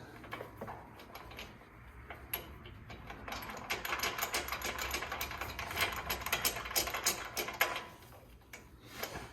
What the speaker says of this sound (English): Sometimes it's easier just to use the socket and use that to spin them out.